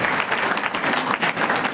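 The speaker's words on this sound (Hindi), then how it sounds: "जोरदार तालियां उनके लिए" A school audience at a government senior secondary school in Harsawa Bada claps in a dense, steady burst of applause, loud and close.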